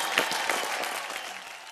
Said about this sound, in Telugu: అప్లాజ్.